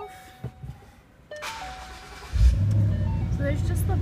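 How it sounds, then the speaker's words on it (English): A 2014 Ford Mustang GT convertible turns over about midway and settles into a steady, close, low idle rumble after a few faint clicks and handling noises. "So we'll just turn the vehicle on here to put up the roof."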